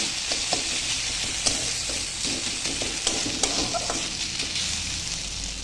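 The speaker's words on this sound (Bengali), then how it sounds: "আলু পেঁপে ভাজা তেলের মধ্যে গোবিন্দভোগ চালগুলোকে একটু হালকা করে ভেজে নামিয়ে নেব।" Gobindobhog rice stirred and lightly fried in oil left from frying potato and papaya, giving a steady close sizzle with scattered clicks and scrapes of stirring throughout.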